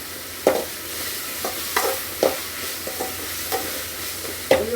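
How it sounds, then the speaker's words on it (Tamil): Kichadi with turmeric added is stirred in a pan, with a steady low sizzle and repeated scraping strokes of a spoon every half second or so, close up with no talking. "இப்போவே போட்டுறேன் மஞ்சத்தூள்."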